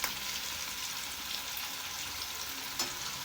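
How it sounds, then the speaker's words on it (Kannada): Paneer and potato snacks deep frying in oil, a dense, even bubbling hiss that carries steadily throughout, with a brief tap or clink near the end. "ಈ ಥರ ಎಲ್ಲಾನು ಹಾಕೊಂಡು ಎಣ್ಣೆಯಲ್ಲಿ ಡೀಪ್ ಫ್ರೈ ಮಾಡೋದು."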